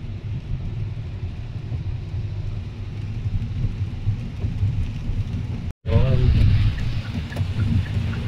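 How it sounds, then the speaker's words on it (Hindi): Heavy rain falls during a road trip from Riyadh toward Makkah in Saudi Arabia, heard from inside a moving vehicle as a dense rumble. It breaks off briefly, then returns louder and closer. "माशाल्लाह बारिश बहुत ज़्यादा हो गया यहाँ पर।"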